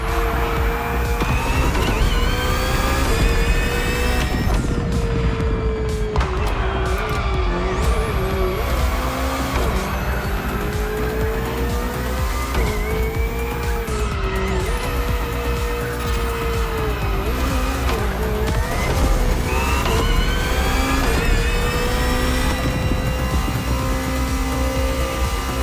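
BMW hybrid V8 race car in The Crew Motorfest, engine revving loud and close through gear shifts and sustained high-rpm pulls, with tire squeals and skids woven through a continuous racing roar.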